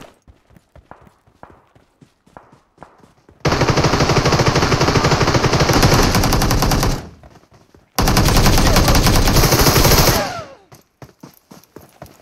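Heavy automatic gunfire from both sides in a PUBG Mobile battle, two loud sustained bursts of rapid shots separated by a short pause, with scattered lighter shots and footsteps before them.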